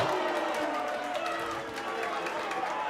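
A roaring wrestling crowd packed into a brewery venue, dense and steady with cheering and chatter throughout, loud and close, with an excited commentator talking over it.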